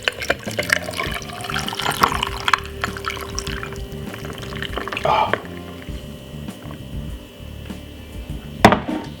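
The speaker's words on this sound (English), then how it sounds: "And then pour that nice lovely juice we should just make." Fresh beetroot juice is poured into a glass over ice, a close liquid trickle and splash with a few clinks, under soft talking.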